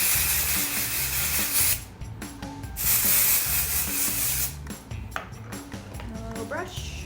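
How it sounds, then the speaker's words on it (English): Dry shampoo is sprayed onto hair in a few short, close hissing bursts, with quieter rubbing sounds and a voice talking in between. "Just add a little dry shampoo."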